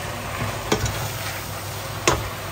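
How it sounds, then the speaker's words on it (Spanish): Sea bass with mushrooms, onion and a splash of wine sizzles in a pan, a constant close frying hiss broken by two sharp utensil scrapes as it is stirred, no voices. "Ahora vamos a darle una vueltecita."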